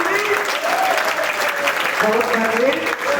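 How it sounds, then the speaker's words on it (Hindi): Students at an intercollege in Mansurpur clap loudly in a thick, sustained burst while a voice carries over the applause. "जोरदार ताली आपके लिए, बजाओ ताली, बजाओ ताली, और करो ताली।"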